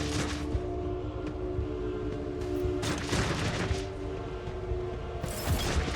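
Rapid gunfire from the Warhammer 40k Rogue Trader video game, loud and dense bursts of shots over steady in-game background noise and music, with sharper volleys near the middle and the end.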